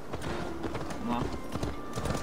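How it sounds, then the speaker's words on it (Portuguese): Horse hooves clip-clop in Assassin's Creed Valhalla as a slow horse is ridden, a steady rhythmic trot heard close under continuous spoken dialogue. "Pegar um cavalo lento."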